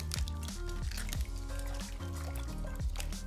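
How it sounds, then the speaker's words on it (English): Lettuce being washed in water in a kitchen: wet squishing, dripping and splashing as the leaves are handled, with tonal background sounds running underneath. "We'll quickly wash the lettuce in water and set them aside to drain in the colander."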